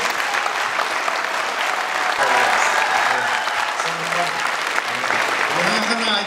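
Audience at a 2019 memorandum-signing ceremony applauds steadily and loudly throughout, a dense sustained clapping with crowd murmur mixed in.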